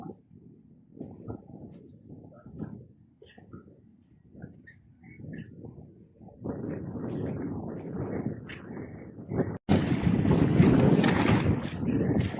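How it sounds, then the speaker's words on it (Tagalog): Strong wind gusts buffet the microphone outdoors at the shore, rising to a loud, steady roar in the last few seconds, with faint voices earlier. "Lakas ng hangin."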